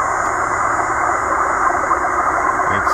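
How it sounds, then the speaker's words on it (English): A steady, faint Russian XPB number station signal on 14918 kHz USB, received on a Tecsun H-501X with a telescopic antenna, hums over constant static hiss with a continuous droning tone and no voices. "this is one of those Russian number stations."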